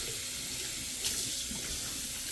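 Hot water running steadily from a tap fed by a recirculation pump with a bypass valve, a loud, continuous rushing splash close by with no voices.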